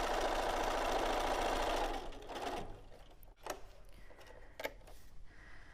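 A sewing machine stitches quilt pieces in a steady, loud whir for about two seconds, then stops, leaving faint clicks and handling noises.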